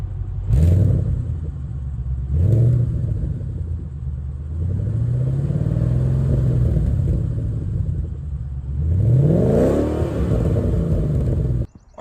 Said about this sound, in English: Here's some sound clips of the exhaust.